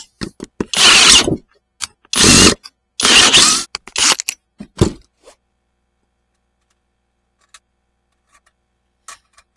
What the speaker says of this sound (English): Just keep drilling it until it falls out.